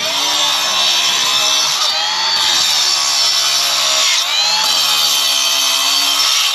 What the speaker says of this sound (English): So one of the things I've never used is one of the cordless cutoff saws. So I've been curious to see how the Milwaukee one does.